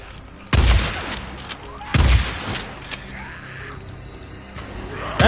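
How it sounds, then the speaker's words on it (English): Three heavy shotgun blasts from the video game Days Gone, spaced a second or more apart, each a sharp close boom with a short tail, over a low background of game ambience. "You mess with the wild, you get the shotgun!"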